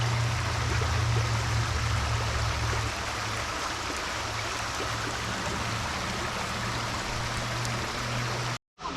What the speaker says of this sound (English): Nice creek here.